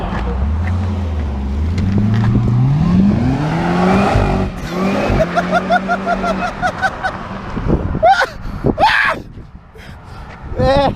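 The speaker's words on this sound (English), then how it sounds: "That supercharger whine is sick." A 2006–2011 Honda Civic with an R18 engine revs hard with a rising mechanical whine as its tires spin and fishtail without traction. Excited voices talk and exclaim over the engine noise.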